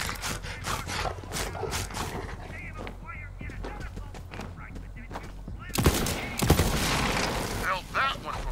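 Gunfire rattles in Borderlands 3 as rapid bursts of shots, then a louder, denser barrage near the end, with in-game voices talking over parts of it.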